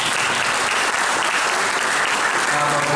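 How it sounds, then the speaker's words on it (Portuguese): Dense, steady applause fills a recital hall in Campo Grande for a saxophone student, a continuous wash of many hands clapping at even loudness throughout. "Palmas pro José Mendes."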